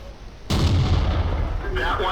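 A tank cannon fires in the World of Tanks video game, one loud, sudden blast followed by a sustained roaring echo, with a second, fainter shot sound near the end.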